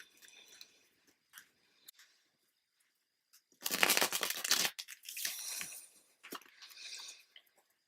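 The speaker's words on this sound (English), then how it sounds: "I'll do a quick shuffle." A deck of tarot cards is shuffled by hand, with a few light taps and slides, then a loud dense riffling burst followed by shorter rustling shuffles, close and otherwise quiet.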